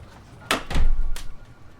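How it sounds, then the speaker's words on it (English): A door is pushed shut in a quiet courtroom chambers setting, a pair of dull close thuds with a short scrape between them, followed by a fainter click, all fairly near and without talk. "Close the door, counselors, and take a seat."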